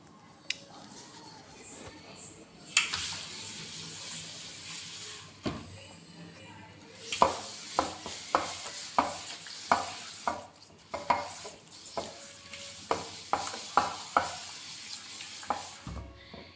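Milk stirred in a pan with a utensil makes a series of quick, close scraping and clinking strokes over a soft background hiss, faster and more regular in the second half, with no talk.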